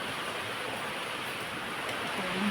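Rain pours down outdoors in a steady, dense hiss, an even wash of drops close at hand with no break or change, and no voices over it.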